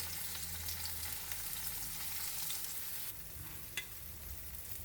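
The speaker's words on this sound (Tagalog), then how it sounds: "paliktarin natin para maluto naman yung kabila ng ating tofu" Tofu sizzles steadily in a hot pan after being flipped, with a dense crackle of frying oil throughout and a brief louder pop near the end.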